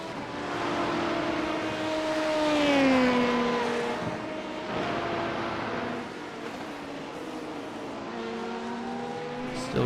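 IMSA LMP2 prototype race cars run in iRacing among GT3 cars, including a Porsche GT3, with engine tones that climb and shift as cars accelerate and pass. The engines drone steadily and fairly quietly throughout, with no talk.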